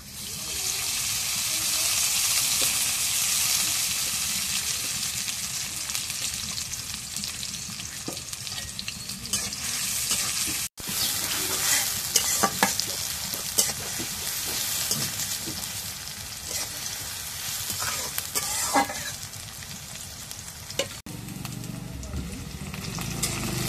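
Cooking in hot oil for a goat meat curry, a loud steady sizzle with repeated scraping and clinking of a stirring spoon, one brief dropout midway and quieter, muffled sounds near the end.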